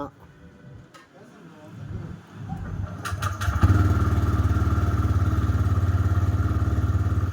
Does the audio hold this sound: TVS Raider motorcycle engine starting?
yes